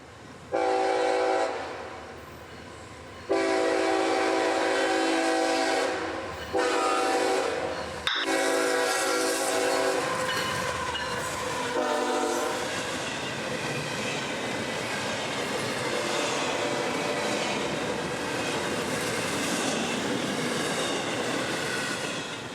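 A short northbound freight train on the S-Line north of Tampa toward Jacksonville sounds its horn in long, loud blasts, then rumbles past with steady rolling and wheel clatter that continues to the end.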